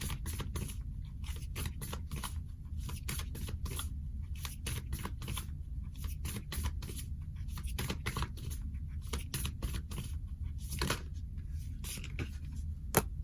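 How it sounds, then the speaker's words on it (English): Crisp, papery rustling and riffling of oracle cards being shuffled, close by, in steady dense bursts with no voices. "let me go ahead and shuffle some cards"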